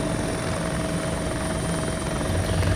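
A helicopter in a military video game flies steadily, its rotor and engine giving a constant, loud, dense rumble with a fast thumping pulse and no speech over it.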